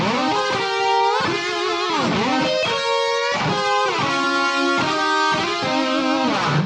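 Distorted electric guitar through a harmonizer pitch shifter placed in an amp's effects loop after a Barbershop overdrive from Fairfield Circuitry, giving sustained doubled lines with bends that sound like two guitars together, loud and continuous, with no voices.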